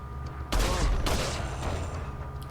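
Gunfire from Ada's unupgraded handgun in Resident Evil 4, a loud close shot followed by another half a second later, each with a long ringing tail.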